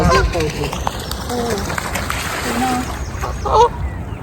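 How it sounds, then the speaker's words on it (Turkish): Geese fight and honk amid splashing water on a lake in England, harsh calls overlapping in bursts, with people talking and laughing nearby. "Kazlar kavga ediyor."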